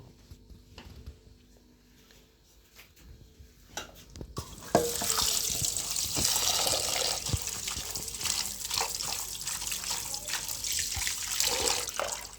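Cut potatoes are washed under a kitchen tap: after a few seconds of quiet handling clatter, water gushes on and runs steadily, splashing and sloshing loudly and close, with no talking.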